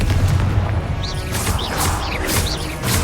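Confringo blasting spells from Hogwarts Legacy go off in a dense run of booms and crashing impacts layered with whooshing magical effects, loud and continuous across the clip.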